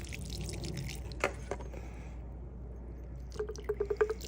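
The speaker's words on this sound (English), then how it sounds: "I'm gonna water that." Water trickles and drips into the soil of an indoor aloe plant's pot, soft wet splashes with a faint pouring hiss, ending in a quick run of close, bright drips.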